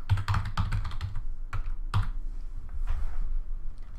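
Typing on a computer keyboard while entering code: quick, irregular bursts of close, crisp keystroke clicks with short pauses between runs, and no talking.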